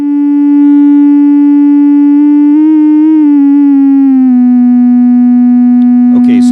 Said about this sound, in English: this is the sound of our sine wave not going through the 308, just naked out of the Pittsburgh filter